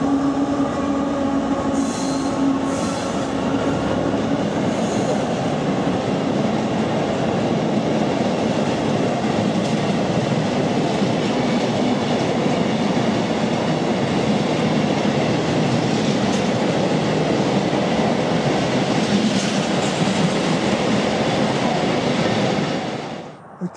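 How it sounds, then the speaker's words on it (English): A Thameslink passenger train arriving at Swanley railway station, a loud sustained rumble of wheels and motors close by with faint squeals and rail clatter, holding steady throughout before cutting off at the end, with no talking. "1326 Thameslink service to Sevenoaks"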